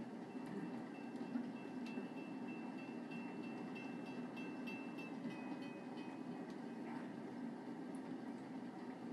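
Train ride in Uncharted 2: Among Thieves, a steady low rumble of rolling railcars with faint rattling clatter, continuous and fairly quiet, with no voices.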